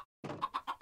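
A chicken in modded Minecraft clucks in a quick run of four short, evenly spaced, faint clucks after a brief silence.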